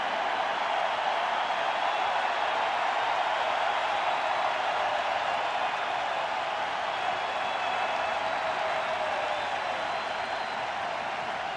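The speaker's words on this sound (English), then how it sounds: "the crowd is finally in full throat" A World Series Game 7 baseball stadium crowd roars in a steady, dense wall of cheering that holds at full volume throughout, broad and distant-sounding with no individual voices standing out.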